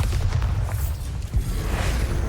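Bombarda blasting spell exploding in the video game Hogwarts Legacy: a loud, deep booming burst with rumbling low end and crackling debris, sustained over a couple of seconds.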